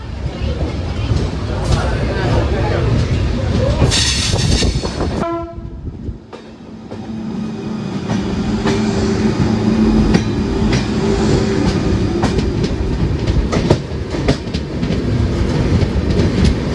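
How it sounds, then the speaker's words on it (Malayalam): An express train running from Kollam to Tirupati arrives at Ernakulam Town, sounding a loud horn blast before its wagons rumble and clatter past nearby in a continuous heavy roar. "കൊല്ലത്തുനിന്ന് തിരുപ്പതിയിലേക്ക് പോകുന്നൊരു എക്സ്പ്രസ് വരുന്നുണ്ടേ"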